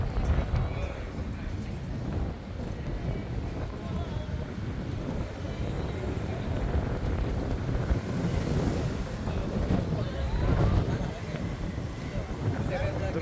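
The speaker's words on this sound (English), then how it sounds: "The weather is windy now" Steady wind gusts rush past the microphone outdoors around the Canary Wharf roof garden and footbridge in London, a continuous blustery roar that lasts throughout.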